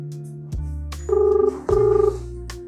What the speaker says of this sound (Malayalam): ഇനി അടുത്ത ആളെ വിളിക്കാം.